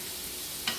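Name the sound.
onion in butter simmering in cast iron pan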